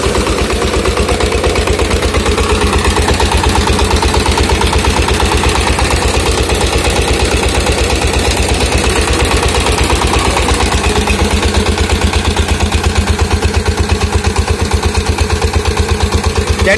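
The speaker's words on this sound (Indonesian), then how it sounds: "kalau dilihat didengar dari bunyi mesinnya itu santai sekali, tapi semburan air yang dihasilkan itu seperti ini." A 20 HP diesel engine drives a 6-inch Intan water pump for crop irrigation, chugging in a loud, steady, even rhythm close by, with the drone running unbroken and no voices throughout.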